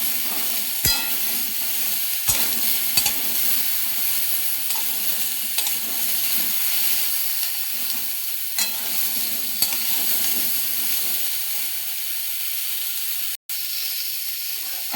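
Food sizzles steadily in a pan while a utensil stirs it, scraping and clacking against the metal in scattered knocks over a continuous close hiss of frying.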